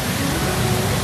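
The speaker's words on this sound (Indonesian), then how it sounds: "Hujannya deras banget, kacau." Heavy rain pours down outdoors, soaking cameras: a steady, dense hiss of loud downpour fills the whole moment without pause.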